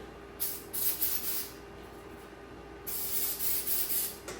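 Two hissing bursts from a spray can, each lasting about a second or more, close by, separated by a quiet pause.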